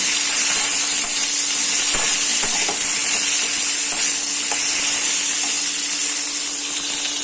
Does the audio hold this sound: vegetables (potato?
yes